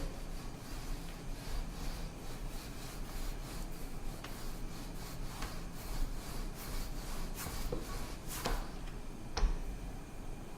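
Cinnamon roll dough being rolled out, giving a soft, steady rubbing and rolling sound close by with a few faint ticks and knocks, low in level throughout.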